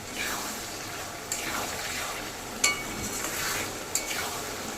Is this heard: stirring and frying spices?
yes